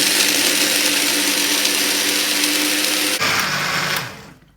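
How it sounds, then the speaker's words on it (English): A countertop blender whirs loudly and steadily while mixing a mango berry smoothie, then its motor changes pitch and winds down to silence near the end. "Cover the blender. Close it. And then we're gonna mix it for about 2-3 minutes."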